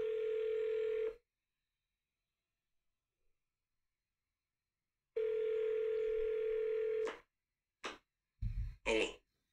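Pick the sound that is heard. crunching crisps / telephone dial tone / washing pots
telephone dial tone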